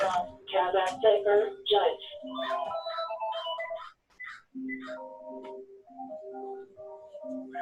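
A phone rings with a melodic electronic ringtone of steady beeping tones, coming in after a stretch of speech and repeating clearly through the rest of the clip.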